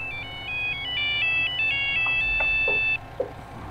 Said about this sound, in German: Weil mein Telefon klingelt.